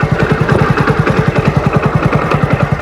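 A motorcycle engine running rough with a steady, rhythmic knocking pulse before stalling, loud and close, no voices.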